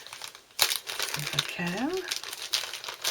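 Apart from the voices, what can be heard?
opening a crinkly plastic bag from a craft kit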